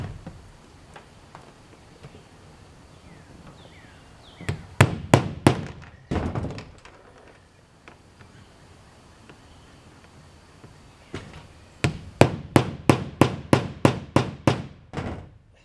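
Hammer blows on a roof come in two quick bursts of sharp, ringing strikes, a handful near the middle and a longer rapid series near the end, with quiet gaps between.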